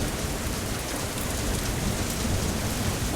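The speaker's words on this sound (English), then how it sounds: "That night, while thunder rolled across the sky, Haru sat beside his grandmother." A heavy rainstorm roars as a dense, loud, unbroken downpour with a low thunder rumble rolling underneath throughout, and no voices.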